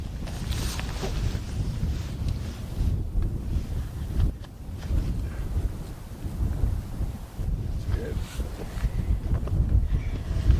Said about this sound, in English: The wind is changing a lot. It's quite gusty.